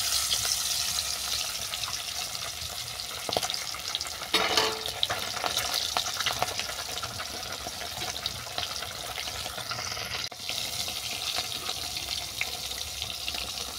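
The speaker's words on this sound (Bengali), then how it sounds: "ওর মধ্যে মাছটাকে ভেজে নিচ্ছি।" Boroli fish frying in hot white oil in a wok, a steady hissing sizzle with bubbling texture and an occasional stir or clatter, continuous throughout with no talking.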